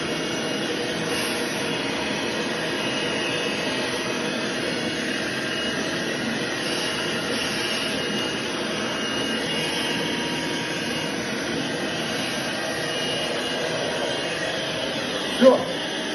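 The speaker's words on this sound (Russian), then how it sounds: "купил вот этот пылесос вот такой" A vacuum cleaner sucks dust out of a box with a steady, loud roaring whine that holds unchanged for about sixteen seconds, broken only by a brief knock near the end.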